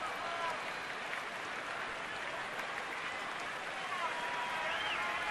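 Crowd at a Braves–Nationals baseball game in Washington, a steady, distant roar of thousands of fans building in anticipation, with a broad even wash of cheering and clapping throughout.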